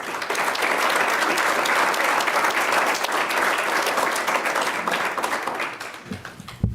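A room at a city commission meeting breaks into sustained applause for a staff member's years of service, a dense, even roar of many hands clapping that tapers off at the close.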